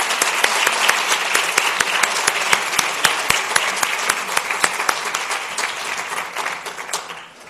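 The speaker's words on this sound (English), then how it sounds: "just join me in giving them a round of applause" A full audience gives a sustained round of applause at a youth summit marking the Freedom Rides anniversary, dense clapping steady throughout and tapering slightly at the end.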